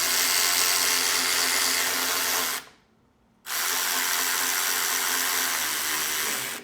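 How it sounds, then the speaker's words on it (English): Snap-on air tool rattling loudly and steadily in a shop, with a brief stop of about a second before it resumes at full strength until the end. "And you're just hearing a bunch of rattling."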